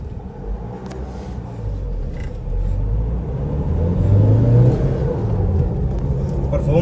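A 2015 Honda Amaze i-DTEC diesel sedan runs with a low engine rumble that rises as it accelerates, while someone talks over it.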